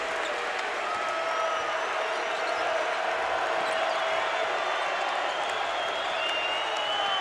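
A capacity basketball arena crowd at a college game, Utah State at Boise State, roars in a dense, steady wall of cheering and noise that holds at a loud level throughout with no break.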